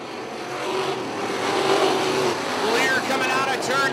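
Wingless sprint car engine noise at a race, a steady loud roar with a rising pitch sweep late on, under continuous excited commentary from a race announcer.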